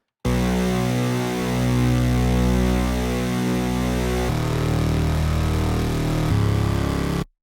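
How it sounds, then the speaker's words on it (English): A gritty wavetable synth bass runs through a high notch filter, holding loud buzzing sustained notes that step to new pitches twice, with no voice over it. "I'm using this high notch filter to just kind of poke in some nice like low mid and just kind of give it some nice gritty character."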